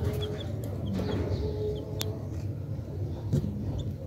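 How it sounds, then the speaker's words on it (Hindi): Farm-raised yellow broiler chick calling among other poultry, with clucking and short chirps over a steady noisy background of birds, fairly close. "ये हमारा है फार्मी चूजा"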